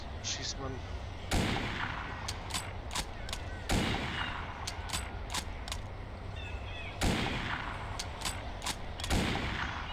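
Repeated gunshots in the video game Mafia: several sharp, loud broadband bursts at irregular intervals over a steady low background hum, with no talking.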